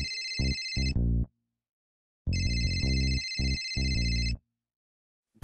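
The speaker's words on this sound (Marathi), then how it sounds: "ह्याचा फोन कसा काय आला?" A mobile phone ringtone plays a bright repeating electronic melody in two loud bursts separated by about a second of silence, close and clear with no talking.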